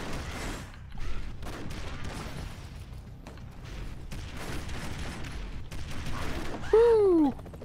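Airstrikes pounding down in Broforce, a run of muffled explosions and rumbling blasts with a rising whistle near the end, loud amid game noise and some talk.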